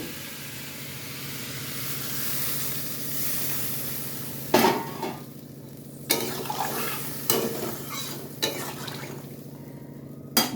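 Katla fish curry simmers in a pot with a soft steady sizzle, then a spoon scrapes and clanks against the metal in several close, uneven bursts; no voices.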